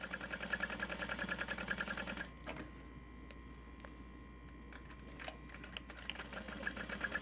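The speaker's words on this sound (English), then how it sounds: "We're gonna top stitch this first." A sewing machine top stitches fabric for a bag, running in a fast, steady, rhythmic whir for about two seconds, then falling quiet for a faint ticking pause before the stitching starts up again near the end.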